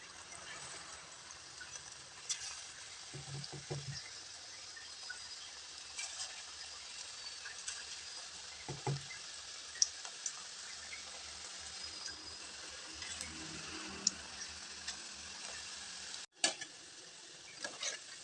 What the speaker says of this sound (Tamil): பொரிச்சு எடுக்கிறதுக்கு எண்ணெய் ஊற்றிருக்கிறேங்க. இப்போ மாவு எடுத்து கொஞ்சம் கொஞ்சமாக போட்டுக்கலாங்க.